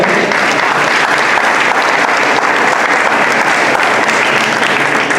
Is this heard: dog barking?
no